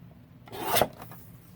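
Paper for a garden journal being trimmed, a single rasping cut that swells to a peak then fades, close and fairly quiet with no voices.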